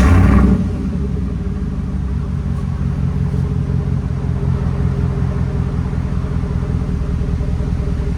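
A 2014 Ford Raptor with a 6.2L V8 and Carven exhaust idles with a loud, steady, deep rumble close by after a brief louder start, the low burble unbroken and without talk.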